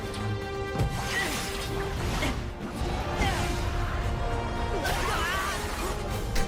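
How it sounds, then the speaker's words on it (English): A character is thrown through a pane of glass in the Kingdom Hearts 4 game trailer, a sharp shattering crash over a dense, loud music and effects mix. "Just gonna see this guy get thrown through that glass like 10 times today."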